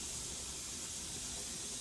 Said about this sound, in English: this is our vent where the steam's coming out of